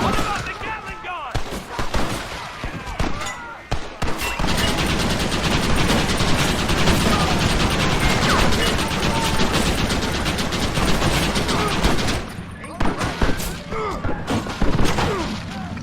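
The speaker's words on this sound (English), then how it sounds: "What about the Gatling gun?" Sustained rapid Gatling gun fire in the Western shooter Red Dead Redemption on Xbox 360, a loud continuous mechanical burst lasting about eight seconds, with scattered gunshots and shouting voices before and after.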